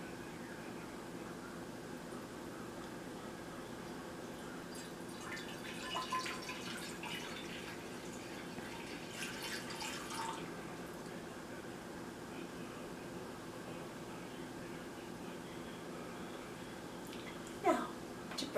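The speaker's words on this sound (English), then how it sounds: "I'm going to pour some water in the basin" Faint water splashing and trickling into a basin in a few short bursts, with quiet dripping and a steady low hum underneath.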